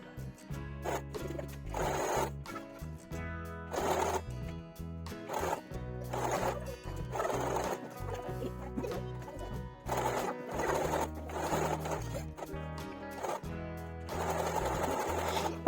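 A sewing machine press-stitches a cotton co-ord set, running in repeated short bursts of rapid mechanical chattering separated by brief pauses, close and clear with no talking.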